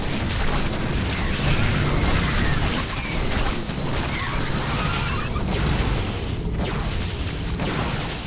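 Buildings blowing up in a StarCraft 2 match, a dense continuous roar of overlapping blasts and crunching debris, loud and sustained with no quiet gaps.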